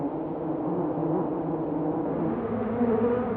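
A bee gathering alfalfa pollen buzzes steadily and close up, a continuous droning hum that holds even for the whole stretch with no other sounds.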